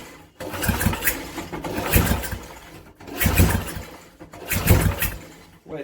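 A Briggs and Stratton 5hp engine is pulled over repeatedly with the choke on, giving four rough bursts of cranking and sputtering separated by short pauses, close and moderately loud, with no sign of catching and running.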